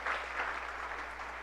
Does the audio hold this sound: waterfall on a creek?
no